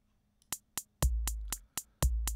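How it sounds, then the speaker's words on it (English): A synthesized bass drum and hi-hat from VCV Rack play a sparse loop, sharp ticking hi-hat hits four per second and booming kick thumps once a second, with nothing else underneath. "So there's the bass drum and the hi-hat."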